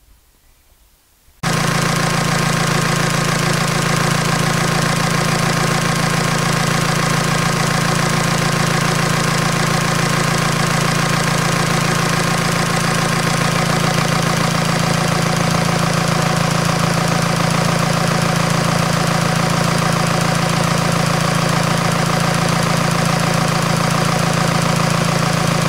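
A tractor engine idles steadily and loudly after a brief quiet start, a constant mechanical drone with a slight knock, running while the engine warms up after a head gasket job, with bubbles showing in the thermostat housing.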